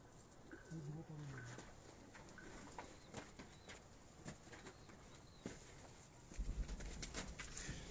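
Performer pigeons, a golden and a teddy variety kept on a rooftop, give soft low coos early on. Faint clicks and scattered rooftop noise follow, with a louder rumble near the end.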